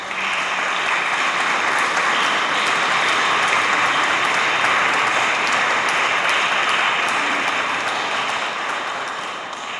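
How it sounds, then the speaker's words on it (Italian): Sustained, dense applause from a church audience after an organ festival concert for San Michele Arcangelo, a steady loud wash of many hands clapping for nearly ten seconds before tapering slightly. "Parlano i vostri applausi"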